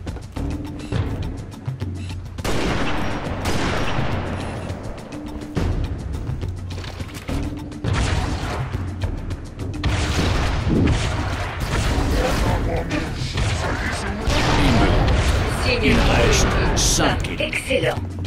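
Halo Reach combat with rocket launcher shots and explosions booming among game effects, while a French-language announcer voice speaks over much of the action.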